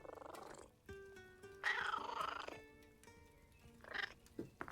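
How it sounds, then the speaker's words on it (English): A cat in the animated show The Mighty Nein purrs and trills in close, uneven bursts, rumbling and warbling tones coming and going over about five seconds, with no speech. "that's a cute cat."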